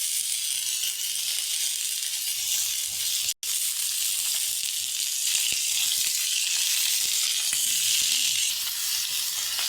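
Potatoes and vegetable stalks fry in hot oil with black cumin and chilli, a loud, steady close sizzle with a brief drop partway and a few faint stirring scrapes.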